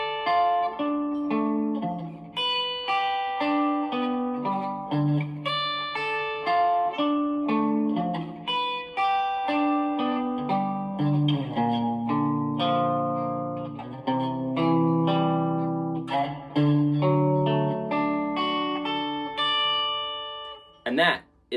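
Acoustic guitar strumming and picking the rhythm part of a song at a slow tempo, steady chords ringing close and clear on their own for about twenty seconds.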